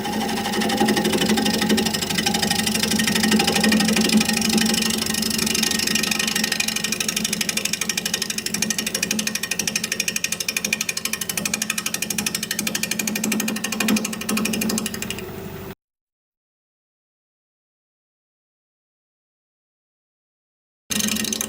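A wood lathe spins a pink dogwood bowl blank at 750 RPM while a 5/8 inch bowl gouge cuts, producing a continuous loud, rough buzzing drone that runs steadily, drops to silence, then briefly resumes.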